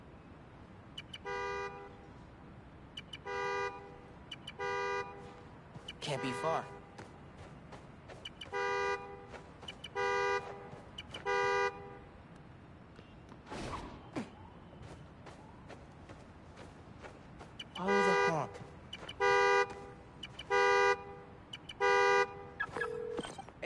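A car horn in Spider-Man: Miles Morales, set off from a key fob, honks in repeated short bursts of clustered toots with pauses between, fairly clear over quiet surroundings; a voice speaks briefly.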